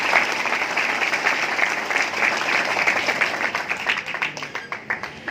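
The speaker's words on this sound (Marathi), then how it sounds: "आपण या संस्थेकरता जोरदार टाळ्या वाजवून यांचं कौतुक करायला पाहिजे" An audience at a law event of the Bar Council of Maharashtra & Goa claps loudly and steadily for an institution, the applause continuing for several seconds before tapering slightly.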